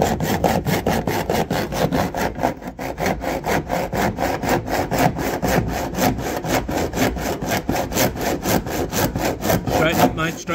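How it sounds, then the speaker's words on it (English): Hand saw cutting close to a Jubilee clip on a heat pump repair, loud rapid rhythmic rasping strokes continuing for about ten seconds at close range, with voices faintly underneath. "No teeth left on the saw. it's because I'm hitting that Jubilee clip there."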